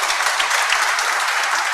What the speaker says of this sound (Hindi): तो अरविंद सिंह जी के लिए एक जोरदार तालियों के साथ इनका स्वागत कीजिए।